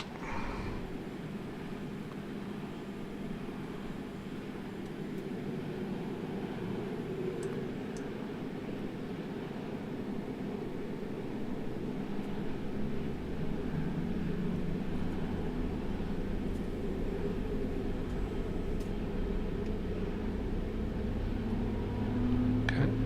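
A simulated CRJ-200 jet engine starts up, its low rumble and rising whine building steadily and growing louder over a constant cockpit hum.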